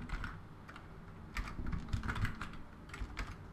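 Typing on a computer keyboard while filling in a web form, quick irregular bursts of close, light key clicks with short pauses.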